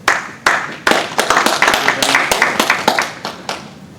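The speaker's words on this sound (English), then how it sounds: "give a round of applause" An audience at a security conference talk breaks into applause, starting with a few sharp claps and swelling into steady close clapping before fading.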